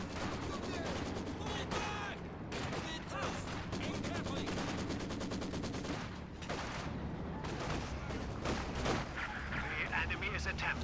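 Gunfire in a WWII strategy game, with a Pak 40 anti-tank gun firing alongside machine guns and artillery: a steady crackle of shots with repeated heavy booms, loud and continuous under a speaking commentator.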